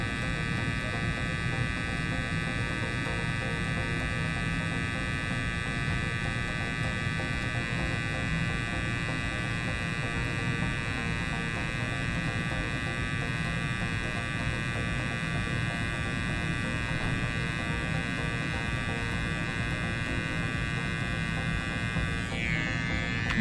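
Continuous steady electric buzz of a permanent makeup machine needle held against skin while shading ombre brows, close and even throughout with no talking.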